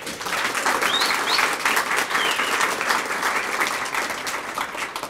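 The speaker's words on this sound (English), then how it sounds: "Quick round of applause for him." Sustained applause from a crowd at a Missouri Mavericks press conference, a dense steady wash of clapping throughout with a few faint whistles.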